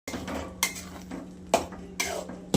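Metal kitchenware clatters as a pot is handled and covered with its lid, four or five sharp clanks spaced across a couple of seconds over a low steady hum, no speech.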